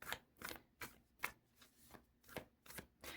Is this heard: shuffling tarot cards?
yes